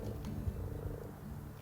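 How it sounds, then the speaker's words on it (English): Male common frogs croak in a garden wildlife pond during breeding, a low rhythmic purring chorus with a few louder close calls over a soft, quiet background. "2 pairs of common frog males there."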